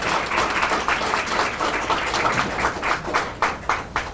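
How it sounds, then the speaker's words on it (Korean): Audience applause at a startup contest award ceremony, a steady mid-distance clapping of many hands that swells and breaks into a few separate claps toward the end. "여러분 따뜻한 박수 부탁드리겠습니다."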